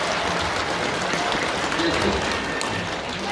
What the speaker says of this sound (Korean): 힘찬 격려와 사랑의 박수 한번 부탁드리겠습니다